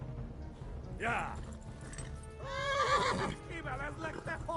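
Neighing of a horse in the video game Kingdom Come: Deliverance: a short whinny, then a longer, louder, shaky neigh, heard over a low steady background.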